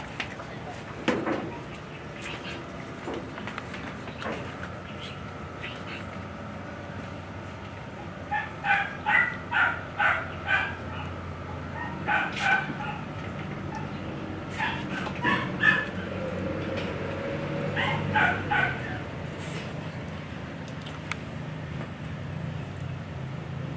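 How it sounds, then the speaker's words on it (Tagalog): A dog gives several bursts of quick, high yipping barks with whimpers in between, close by, while people talk intermittently around it. "aso."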